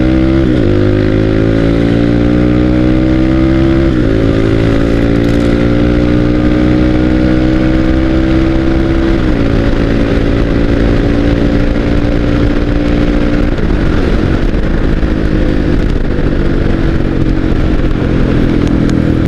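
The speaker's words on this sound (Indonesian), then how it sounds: "Dan akhirnya saya bisa test ride motornya." Motorcycle on a test ride along Jalan Haji Agus Salim, running on fresh Shell AX or HX oil: a steady close engine drone with rising and falling pitch through gear changes, continuous and loud for the whole stretch with no talking.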